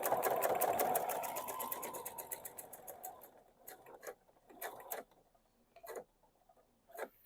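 A sewing machine stitches a quarter-inch seam on a vinyl pouch. A fast, even run of needle strokes is followed by slower, separate bursts of stitching and isolated single stitches, close and clear.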